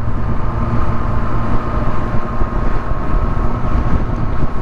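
Honda CB400SB 400cc motorcycle engine running steadily as it warms up and rides off, a continuous loud droning rumble with wind buffeting the microphone throughout.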